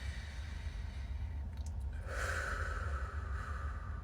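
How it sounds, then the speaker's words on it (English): A person demonstrating heart rate variability breathing, a slow deep inhale drawn audibly through the nose, then a long breathy exhale, close and alone. "there's something called heart rate variability breathing"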